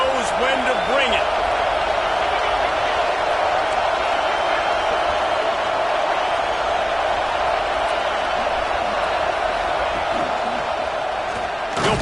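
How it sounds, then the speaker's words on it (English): Stadium crowd at a Wisconsin vs Nebraska college football game gives off a constant roaring din that swells briefly, heard beneath a commentator talking. "This crowd knows when to bring it."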